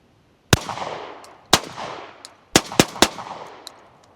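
Suppressed Maverick 88 shotgun fired with a YHM VICTRA-20 suppressor, heard from downrange at the target: five sharp cracks, the first two a second apart, then three in quick succession, each with a short echoing tail.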